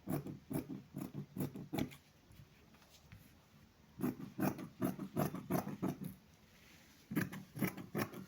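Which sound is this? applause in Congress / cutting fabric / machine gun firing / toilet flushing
cutting fabric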